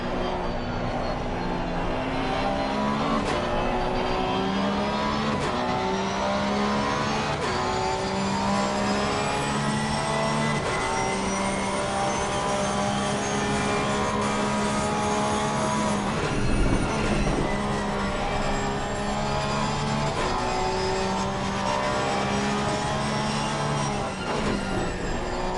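Race cars at Zandvoort in a racing game, engines howling loudly and continuously with steady pitch changes as they run through corners, several cars overlapping, no talking.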